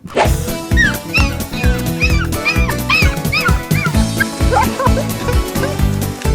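Dog barks and yips in quick repeated bursts over loud rhythmic background music, fairly close and energetic.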